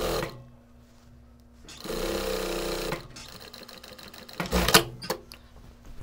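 Sewing machine stitching a piece of felted wool coat fabric, close and clear, in several bursts of rapid mechanical whirring separated by brief pauses, the last run faster and louder.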